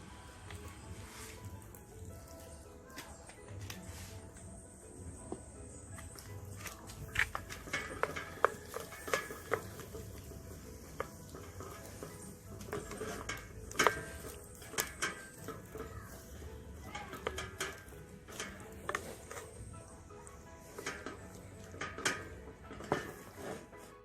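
Vegetables sautéing in a pan for fish, a quiet steady sizzle with scattered clinks and scrapes of utensil against metal throughout, close and low in level.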